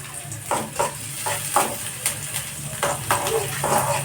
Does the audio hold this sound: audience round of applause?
no